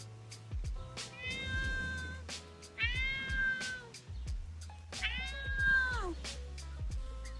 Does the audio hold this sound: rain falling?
no